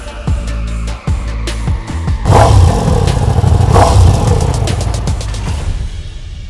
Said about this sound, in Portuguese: está aqui a Diavel V4 com um novíssimo motor Gran Turismo V4